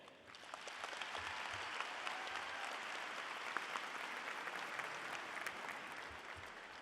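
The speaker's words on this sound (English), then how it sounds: "I kindly ask you all for a round of applause for the teachers, school staffs, parents" A graduation audience at the Alief Hastings 2019 ceremony breaks into a steady, sustained round of applause that fills the hall for the whole stretch, dense and even with no voices rising above it.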